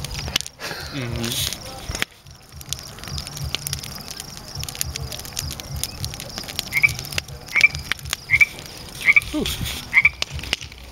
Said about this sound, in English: I'm just seeing, this is where the frog is.